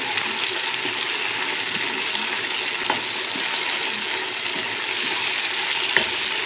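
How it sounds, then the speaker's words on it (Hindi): Capsicum joins mixed vegetables stir-frying Chinese style in a hot pan, giving a steady close sizzle with occasional light clinks and scrapes throughout, no talking. "अब इसमें मैं डालूँगा 1 कप ये शिमला मिर्च है।"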